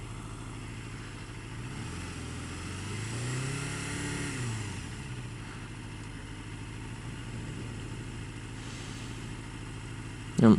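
Bright yellow motorcycle ridden on a warm morning in Darwin, Australia, its engine droning steadily with a rising and falling rev in the middle, wind noise throughout and a sharp thump at the end.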